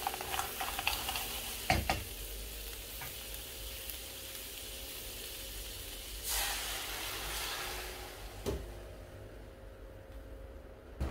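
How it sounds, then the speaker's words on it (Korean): Clams stirred in a pan with white wine poured in for spaghetti alle vongole, making a soft continuous sizzle with sharp metallic clinks and a brief hissing surge as the liquid hits the heat. "조개를 넣고 잘 섞어준 뒤 준비한 화이트 와인을 넣습니다"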